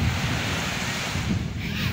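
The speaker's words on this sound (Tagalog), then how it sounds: "May hangin na." Wind gusts roar across an outdoor microphone with a steady low rumble, close and unbroken throughout.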